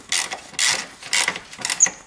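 A bolt on a car's front airbag sensor is worked loose with a ratcheting tool, giving about four short bursts of close, crisp clicking separated by brief pauses.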